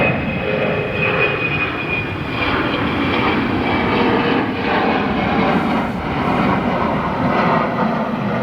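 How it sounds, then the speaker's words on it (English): A Delta Boeing 717 jet takes off at night from O'Hare International Airport, its engines a loud, steady, distant-to-mid roar that swells slightly and holds throughout, with no talking. "And here goes our next departure. Delta 717, service to Detroit."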